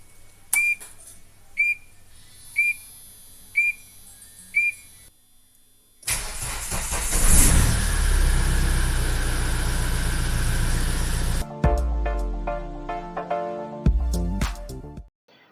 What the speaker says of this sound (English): Let's go to the car and let's see if the engine cranks on or not.